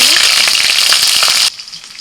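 Chopped onion hits hot mustard oil with torn dried red chillies in a kadai, a loud, close, hissing sizzle that runs for about a second and a half, then drops abruptly to a quiet background.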